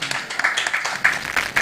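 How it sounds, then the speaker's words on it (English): A round of audience applause at a women's index launch event, brief, dense clapping from a crowd with a few voices faintly over it. "Please, a round of applause."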